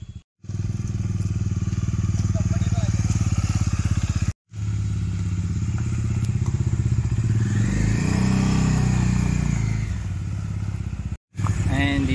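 Bajaj Dominar 250 motorcycle fitted with a body kit idles loudly nearby with a steady rumbling exhaust, then revs up and pulls away, its engine note rising and fading as it departs.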